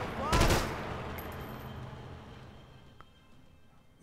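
Gunfire erupts in a shootout in the video game Max Payne 3, a loud burst of shots near the start fading into a lower, continuous rumble of distant fire and ambient noise.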